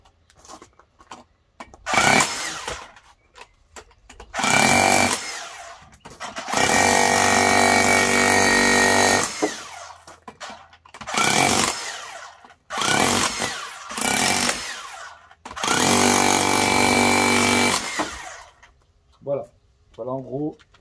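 A Bosch GBH 18V-34 CF cordless rotary hammer chisels in bursts, giving several loud, sustained hammering runs of a few seconds each, separated by short quiet pauses and brief clicks, close to the listener.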